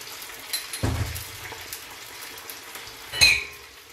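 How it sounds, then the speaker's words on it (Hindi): Chicken with garlic and ginger fries in a kadai, a soft steady sizzle with a couple of stirring scrapes and utensil clanks against the pan, close and fairly quiet. "लहसुन अदरक अच्छी तरह भून लेंगे हम।"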